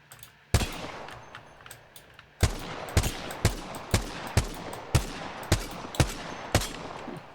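Repeated gunshots ring out in a first-person shooter running at 1080p low settings on an 8-core Ryzen engineering-sample mini PC, with sharp loud reports arriving in a steady rhythm roughly every half second after an opening shot.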